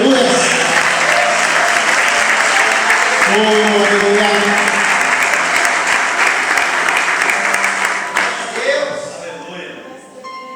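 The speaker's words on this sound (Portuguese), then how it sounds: "Se você crê nisso, dá uma salva de palmas para o Senhor, aleluia." A church congregation breaks into loud, sustained applause during a Portuguese-language sermon, with a voice calling out over the clapping before it thins and fades near the end.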